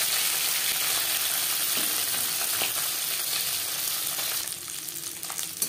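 Tangra fish frying in a karai, giving a loud, steady, dense sizzle and crackle close up that eases slightly near the end.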